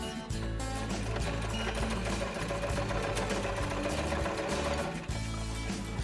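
Sewing machine stay stitching fabric for a doll hanbok, a steady close mechanical whir with a rapid needle rhythm running almost continuously, a short break near the end.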